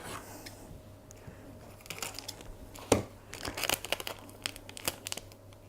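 Sticky tape crackling and tearing in short bursts as it is pulled and pressed onto a mirror, close and fairly quiet.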